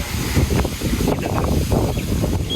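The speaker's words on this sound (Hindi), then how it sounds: "ठंडी ठंडी हवा चल रही है।" Cool breeze blowing outdoors where saplings are being planted, a steady broadband rush of wind with constant mic buffeting throughout, no clear gusts or pauses.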